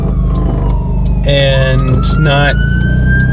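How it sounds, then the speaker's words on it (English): An ambulance siren wails past outdoors, rising and falling in loud sweeping tones over a steady rumble of traffic, with a brief snatch of a man's speech at the start. "That was an ambulance driving by."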